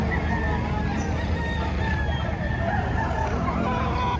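A rooster crows at a chicken market in Padre Garcia, Batangas, loud and close over a constant din of other fowl and background market noise.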